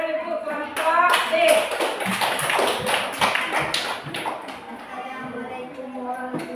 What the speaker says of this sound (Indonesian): beri tepuk tangan untuk kelompok D